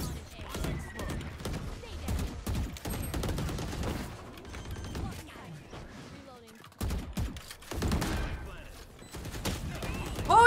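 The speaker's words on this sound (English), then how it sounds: "Who is shooting?" Rapid bursts of gunfire from a multiplayer shooter match, coming in several volleys of shots spread through the stretch, some near and some farther off, mixed with game sounds and occasional voices.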